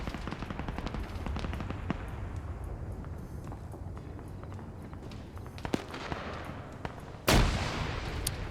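Rapid bursts of machine gun fire from a gun post in a Falklands war video game, dense crackling volleys running steadily with a louder sharp blast near the end.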